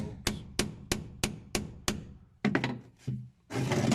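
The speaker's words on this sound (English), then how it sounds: "Try knocking it on with hammer." A hammer strikes a Zetor tractor part with about seven evenly spaced sharp metallic knocks, then a quicker irregular cluster of blows, ending in a burst of clattering noise.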